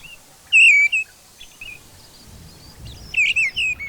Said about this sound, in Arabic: غير بعيد عن هنا يملأ طائر السمان الرحب تغريدا